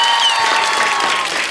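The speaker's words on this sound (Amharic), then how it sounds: "አጨብጭቡለት።" Dense audience applause, many hands clapping steadily and loudly at close range for a brief burst, with no talk over it.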